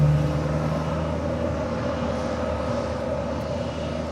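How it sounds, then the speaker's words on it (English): A Global 7500 business jet at LAX departing for San Francisco, its engines giving a steady, loud whining roar with a sustained tonal hum that fades only slightly over the few seconds, with no talking. "This Global 7500 will be departing to San Francisco with VistaJet Malta"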